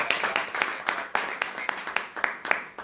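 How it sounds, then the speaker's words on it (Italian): Scattered, sparse clapping from a small group honoring the team manager of Atletico Catania, individual claps popping out irregularly and fairly close. "lo vogliamo fare un applauso al team manager dell'Atletico Catania"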